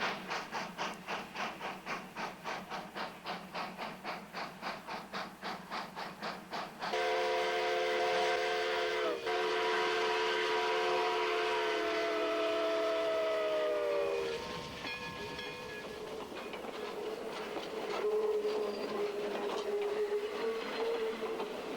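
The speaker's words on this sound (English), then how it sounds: "a 15-mile, 3-hour round-trip ride behind a living, breathing steam locomotive" A steam locomotive on a scenic run between Yreka and Montague chuffs in rapid, even beats, then its whistle sounds loud and sustained for several seconds before the train rumbles on with further whistle blasts.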